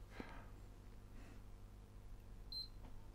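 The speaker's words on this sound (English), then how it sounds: "And that's the second beep." A short, thin electronic power-on beep from a PS3 Slim console rings out once near the end, over steady low hum and faint background clatter.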